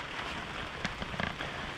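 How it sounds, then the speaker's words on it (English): Rain falls outside a new camper at a campground, a steady close hiss with a few louder drops tapping on the surface and no voices. "Sorry it's raining out"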